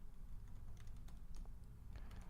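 Keys clatter on a computer keyboard in quick, uneven bursts of clicks, close and fairly soft over a low steady background hum, with no voices.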